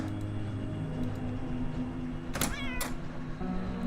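A cat in the Underrail video game meows twice in short rising calls over a dense, steady game ambience with a low hum.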